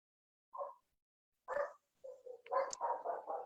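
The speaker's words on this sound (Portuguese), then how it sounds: "Tem um cachorro latindo aí" A dog barks in the background at low volume, one short bark, then another, then a quick run of several barks, distant and faint against near silence.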